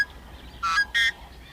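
A yellow-headed blackbird at a marshy slough gives two harsh, raspy buzzing calls in quick succession, fairly close and clear over faint background ambience.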